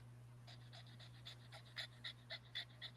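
A dog pants close by in short, quick rhythmic breaths, soft and faint over a steady low electrical hum, with no talk.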